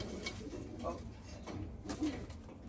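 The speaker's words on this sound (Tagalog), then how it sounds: "Ay, yung hen, naglilimlim." A brooding hen sitting on eggs makes soft, low, coo-like murmurs. The sounds are faint and close, with no speech over them.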